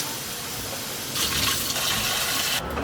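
Water is poured into a cup for sourdough bagel dough at home, a steady splashing pour of about a second and a half that stands out briefly over quiet room noise.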